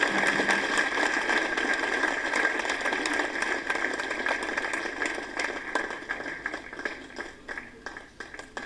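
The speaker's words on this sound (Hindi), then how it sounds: "प्लीज गाइस जोरदार तालियां हो जाए" A hall audience gives a loud, sustained round of applause at a company award ceremony, thick rapid clapping that gradually thins and fades toward the end, with a faint steady tone behind it.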